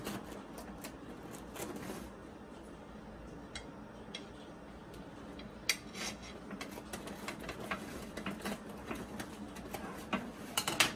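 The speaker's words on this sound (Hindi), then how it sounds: "सीज़र इस्तेमाल करती हूँ, उससे मैं काटती हूँ इसको" Special kitchen scissors snip through a homemade restaurant-style pizza and its crust, giving quiet, crisp, irregular clicks and cuts that grow busier and louder toward the end, with no talking.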